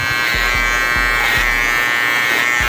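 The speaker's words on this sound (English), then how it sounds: "Also, you wanna use your trimmer as a guide. Put this flat surface on the lineup and then dig in there." Electric hair trimmer lining up coarse hair, a loud close steady buzz with short rhythmic jabs pulsing through the drone and no talk.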